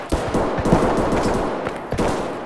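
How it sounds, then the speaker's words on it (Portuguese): Gunfire in the video game Escape from Tarkov, with several bursts and single shots crackling at close to mid distance, some of them echoing. "É vocês atirando aí?"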